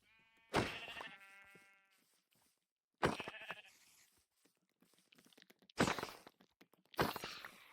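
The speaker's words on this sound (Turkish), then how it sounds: "Koyun." Sheep in Minecraft give short, loud bleats in four separate bursts, with quiet pauses and faint footsteps between them.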